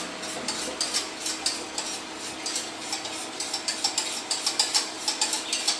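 Stirring an agar agar dessert mixture with a utensil in a home kitchen, a steady run of light clicking, scraping strokes against the pot in a quick repeating rhythm, close and moderately loud with no talk.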